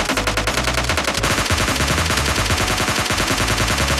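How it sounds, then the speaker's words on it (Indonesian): Automatic gunfire in the PUBG Mobile Lite video game rattles in rapid, continuous bursts, loud and close, with no pauses. "Ada yang nembak kita loh"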